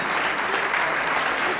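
Loud, close applause from an audience at a poetry performance, a dense and continuous clatter of clapping with no voices over it.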